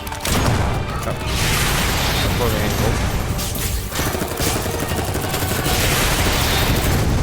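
Shots from a slow-firing Dolagon weapon in the game Dolls Nest, sounding as dense, continuous gunfire and booms over a loud, busy mix with no talk.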